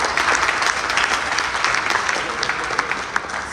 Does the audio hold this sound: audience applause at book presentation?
yes